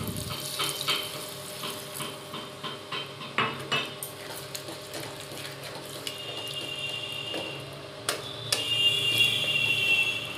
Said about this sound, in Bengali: এরপর আমি এতে জল অ্যাড করছি।